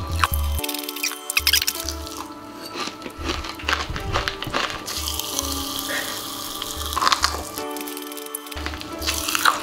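Pop Rocks candy crackling and popping inside a closed mouth, a dense, steady fizz of tiny snaps close to the mic, rising and falling over several seconds with no talking.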